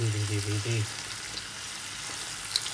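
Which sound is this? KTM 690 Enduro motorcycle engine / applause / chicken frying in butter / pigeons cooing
chicken frying in butter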